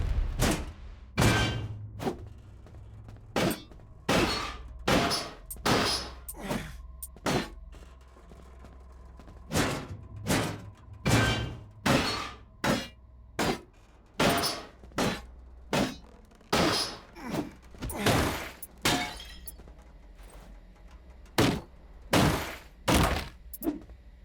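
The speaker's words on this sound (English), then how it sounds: "Explosion in a gas-filled room." Repeated heavy thuds and blasts from a gas-filled room in the game Dysmantle, a long rhythmic series of loud, sharp impacts with brief gaps between them, close and punchy over a low droning background.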